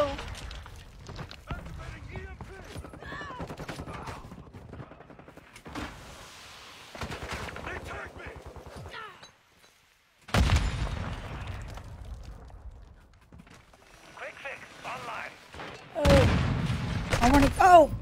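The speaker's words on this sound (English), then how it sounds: "Oh, we're shooting at each other." A gunfire exchange in the video game Fortnite, with bursts of rapid shots and booms arriving in a few loud clusters, separated by stretches of people talking.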